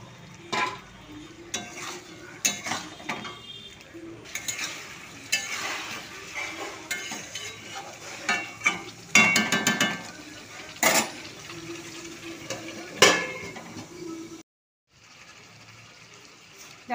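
A spoon scrapes and clatters around a pan of Golbari-style chicken kosha with yogurt, with irregular metallic knocks over a soft sizzle and brief pauses between strokes.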